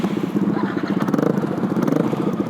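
A motorcycle engine is kick-started and catches into a fast, steady, rattling idle close by. The engine note pulses evenly under a faint background hum.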